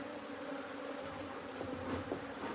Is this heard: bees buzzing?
yes